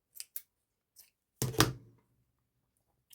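Scissors snip twice quickly in a quiet room, followed by a pause, then one longer, louder cut through mixed-media craft material and a final tiny snip.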